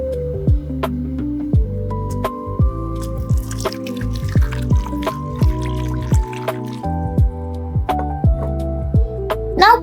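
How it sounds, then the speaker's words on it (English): Water poured into rice in a tiny pot in a miniature kitchen, heard as soft repeated drips and small splashes beneath steady background music. "Now we put some water."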